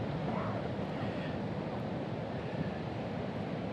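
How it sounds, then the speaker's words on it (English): Ocean surf breaks on a nearby shore as a steady, loud, broadband roar with no distinct individual waves, mixed with wind noise. "The ocean is not far away."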